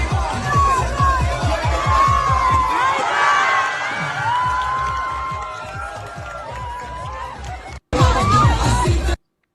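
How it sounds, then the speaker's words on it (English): A dense crowd of soldiers cheering and whooping at a party in Tel Aviv, loud sustained shouts over a pounding rhythmic music beat, briefly cutting out before resuming. "IDF soldiers partying in Tel Aviv cheer when Iranian missile has been intercepted overhead"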